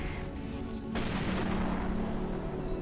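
Gunfire in the Team Fortress 2 video game: a spy lands a headshot, heard as a sharp blast that gives way to a dense, sustained roar of game noise and effects with no speech.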